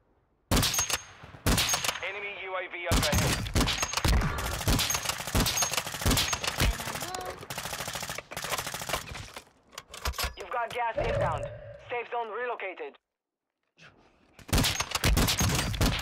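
Rapid bursts of video game gunfire crackle during a loadout match, loud and near, with people talking over much of it and a brief silent gap near the end.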